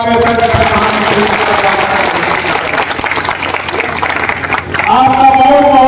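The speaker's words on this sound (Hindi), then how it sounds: "पूरे पूजा पंडाल कमेटी के लोगों के द्वारा एक जोरदार ताली लगा करके" The Durga Puja pandal committee audience claps at an honour ceremony, a broad, dense round of applause under a loud amplified voice, rising again near the end.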